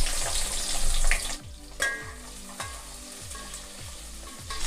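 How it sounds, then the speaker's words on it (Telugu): Onion and green chilli pieces frying in a pan are stirred, broad sizzling under a run of rhythmic scraping strokes about every half second, with a few sharper knocks of the utensil against the pan. "తర్వాత పచ్చిమిర్చి ముక్కలు వేసుకొని కలుపుకోవాలి."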